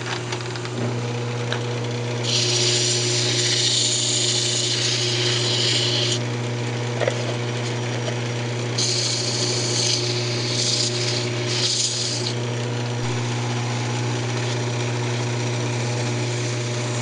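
Steady abrasive rasping of sandpaper against a wooden birdhouse spinning on a lathe comes in two sustained bursts over a constant low motor hum, with quieter stretches between.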